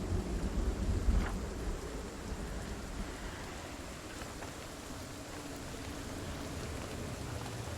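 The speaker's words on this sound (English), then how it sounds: "Thunder, lightning. It's rough out here." A rough outdoor thunderstorm with wind-driven sideways rain hisses steadily, a rumble of thunder swelling near the start before the heavy downpour continues alone.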